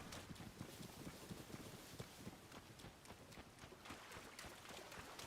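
Horse hooves clip-clop at a rapid running gait in a video game, a steady quick patter of hoofbeats over an ambient background, fairly faint and moving away, with no talking.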